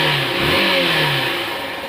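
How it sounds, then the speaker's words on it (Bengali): A Yamaha SZ RR motorcycle engine catches and revs upward, a close, loud single-cylinder drone rising in pitch over a brief couple of seconds, with no voices. "এই যে বাইক স্টার্ট করছি"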